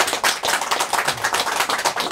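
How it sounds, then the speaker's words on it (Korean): Applause from an audience at a Korean poetry magazine's founding anniversary ceremony, a dense, steady wash of many hands clapping throughout, loud and close, with no talk over it. "우리 박수 한번 칩시다."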